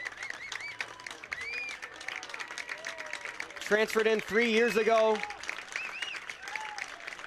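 Crowd at a men's college soccer match between the BJU Bruins and Warren Wilson College Owls applauding a player, steady scattered clapping throughout under a continuous announcer's voice.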